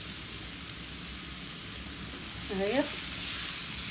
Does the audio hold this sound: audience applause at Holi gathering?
no